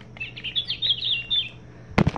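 A Wild Republic Audubon plush bird toy plays a recorded Maui Parrotbill call: a rapid, high, chattering run of chirps and tweets lasting about a second and a half. A sharp handling click follows at the end.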